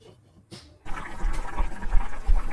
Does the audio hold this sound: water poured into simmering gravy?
yes